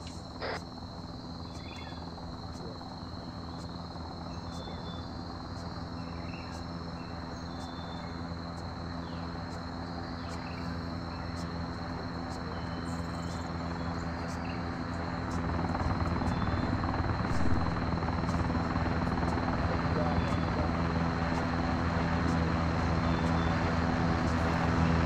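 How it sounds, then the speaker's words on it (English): An MV-22 Osprey tiltrotor in the military game ArmA 3 drones steadily with a broad rotor and turbine roar that grows louder halfway through as it draws nearer, with no talk over it. "Osprey approaching north-northwest."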